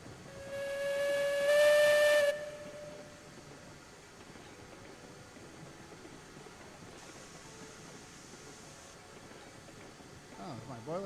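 Steam locomotive whistle in the railroad game Railroads Online, one loud sustained chime-like blast lasting about two seconds, followed by quieter hissing steam and faint rumbling machinery.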